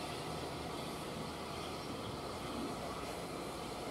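SR steam locomotive no 34070 Manston runs around its train at Alresford station in Hampshire, producing a continuous, even broadband roar and hiss that holds steady for the whole stretch with no voices.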